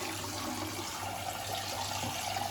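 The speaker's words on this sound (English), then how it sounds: "just add enough water" Water pours steadily from a tap into a pot of washed rice, a soft continuous splashing trickle close by that lasts the whole moment without interruption.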